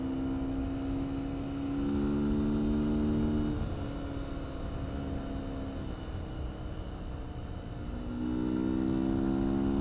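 Steady engine drone from a 2019 Beta 125 RR-S dirt bike ridden on an oiled road as another vehicle passes, with the engine pitch falling away and then rising again, continuous and fairly loud, no talking.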